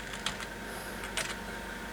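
A few keys are tapped on a computer keyboard, with two brief clusters of light clicks against a quiet room hum.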